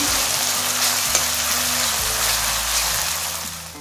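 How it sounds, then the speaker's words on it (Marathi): Loud, continuous sizzle of onion, chilli and garlic frying in oil over low heat, close up, with a low hum underneath and no talking. "मंद आचेवर व्यवस्थित असं खमंग फोडणी होऊ द्यायची"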